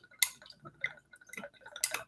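Whiskey poured into a cold glass with ice, quiet clinks and drips in a few brief splashes, faint and close, no voices.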